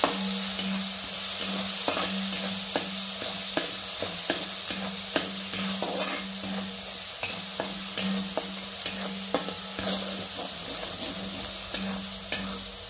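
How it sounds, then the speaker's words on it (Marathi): Cumin, coriander powder, asafoetida and turmeric are stirred in a pan for a black horse gram dish, a spoon scraping in repeated close clicks over a steady sizzle, with no voices. "यात टाकूया बघा आता अर्धा चमचा जिरं, अर्धा चमचा धना पावडर, थोडंसं हिंग, अर्धा चमचा हळद. मिक्स करूया सगळं."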